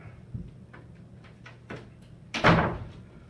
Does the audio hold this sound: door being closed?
yes